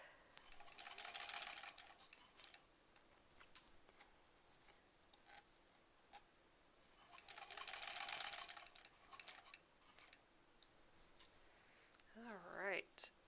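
A home sewing machine stitches a stuffed bunny toy in two bursts of steady, rapid whirring, each about a second or two long, with quiet handling noise between and a brief speaking voice near the end.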